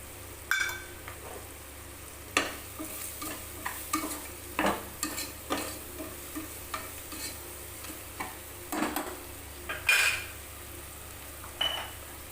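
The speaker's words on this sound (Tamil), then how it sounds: "கொஞ்சம் நேரம் நல்லா வதங்கட்டும்" Chicken biryani masala sautéing in a pan for a samba rava dum biryani: a spoon scrapes and stirs in separate strokes every second or so over a faint sizzle, quiet and close, with no talking.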